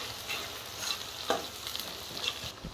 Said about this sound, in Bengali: পেঁয়াজটাকে ভেজে নিচ্ছে লাল লাল করে।